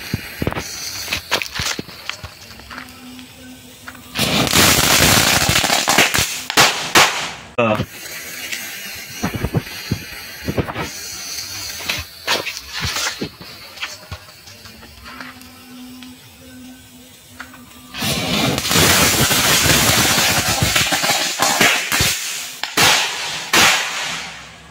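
Chili firecrackers bursting inside a plastic water bottle packed with mud, giving loud, sharp blasts with sustained crackling bursts in two long bouts, separated by quieter clicks and handling noises.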